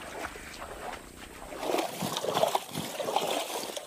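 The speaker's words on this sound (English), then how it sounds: "They absolutely love their mud bath." Warthogs wallowing in a mud bath on a hot day, with soft wet splashing, squelching and trickling close by, quiet at first and then busier in the second half.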